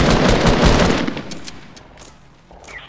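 Rapid automatic gunfire in Fortnite, a video game, is aimed at enemy-built ramps. It comes as a loud, dense burst of shots that fades away after about a second, leaving a few scattered clicks and softer impacts.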